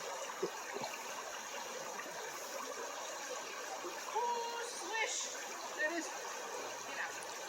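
A hiker fords a river on the Appalachian Trail in Virginia, with soft, intermittent splashing and running water beneath nearby voices.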